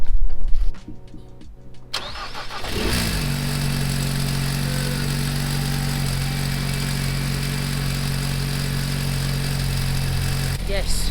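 A car engine cranks and catches after a battery replacement, then settles into a steady close idle that hums on for several seconds; a brief voice is heard before the start.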